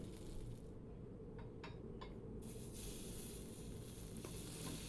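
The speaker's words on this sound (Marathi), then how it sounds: "आपण याच्यात पनीर भाज्या ठेवूया आणि छान भाजून घेणार आहे मी" Paneer and vegetables roasting in hot oil in a pan for paneer tikka, a faint, steady sizzle with a few light clinks and no talking.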